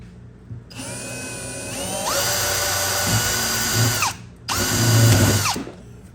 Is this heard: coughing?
no